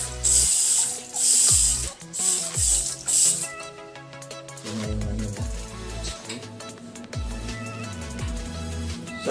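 Water bursts from a handheld bidet hose sprayer in a bathroom, loud close hissing spray in short blasts at first, then a longer stretch of spraying mixed with clattering, running water and handling noises.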